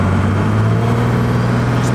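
Loud, close engine drone from a turbocharged car accelerating hard at 45 PSI of boost on its first drive with a new turbo, steady and heavy throughout the short burst.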